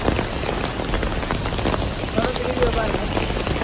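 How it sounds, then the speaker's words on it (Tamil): Heavy, unbroken rain pours down steadily on surfaces during a landslide-bringing downpour in hill country, a dense loud hiss filling the whole stretch without a break. "கனமழை பெஞ்சு கொண்டு இருந்தது தொடர்ந்து பெஞ்சு கொண்டு இடைவிடாது பெய்யுது"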